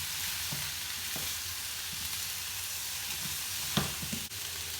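Chicken pieces fry in a pan for a Cajun spice wrap, a soft, even sizzle close by with a few light clicks and stirring taps, and nobody speaking.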